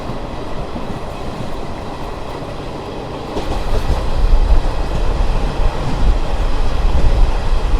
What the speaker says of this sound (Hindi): तो अभी बैक टू बैक क्रॉसिंग्स होंगे ट्रेन के, तो देखते रहिएगा क्रॉसिंग्स।